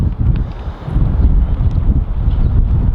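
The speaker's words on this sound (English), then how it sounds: "this is windy as hell" Strong wind buffets a microphone outdoors, producing a continuous low rumbling roar with gusty surges and dips, loud and close throughout.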